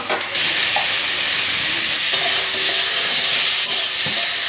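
Chunks of potato and pointed gourd frying in a pan with onion give a loud, close, continuous sizzle that starts abruptly and holds steady, with faint stirring and no speech.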